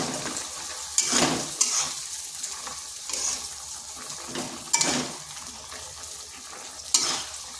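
A spoon stirs pumpkin stem chachchari with coarsely ground poppy seed in a pan, soft sizzling frying under a few sharp scrapes and clinks of utensil against metal at irregular intervals.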